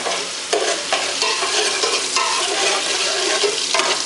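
Food stirred in a hot buttered pan, a dense continuous sizzle with periodic scraping sweeps of a utensil, close and fairly loud throughout.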